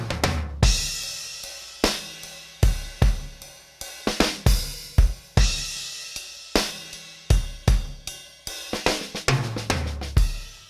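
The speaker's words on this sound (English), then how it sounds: "there's a variety of cymbals and drums played in different styles" Sampled acoustic drum kit with cymbals, played dry in varied styles: punchy kicks, snare hits and ringing cymbal crashes in an irregular groove, with no one speaking.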